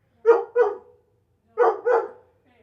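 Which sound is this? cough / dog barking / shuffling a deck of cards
dog barking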